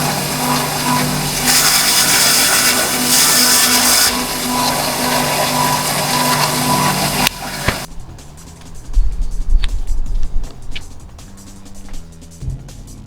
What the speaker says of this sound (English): we're just taking the burr off so it doesn't cut the pipe or our fingers